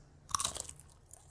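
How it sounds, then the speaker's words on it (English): A short, sharp bite into a Cheesy Grooves snack in a TV advertisement gives a bright crunch followed by a few crackly chewing crunches, close and alone. "Crunch! Cheesy grooves."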